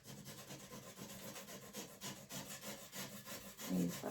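A coin or fingernail scratching the coating off a scratch-off advent calendar card, a steady close rasping rub that continues for several seconds with small rhythmic strokes and grows louder near the end.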